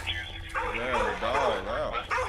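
Dog barking and yipping near police body-cam footage outside a house, short excited bow-wow bursts over continuous background noise, fairly close, with some speech-like overlap.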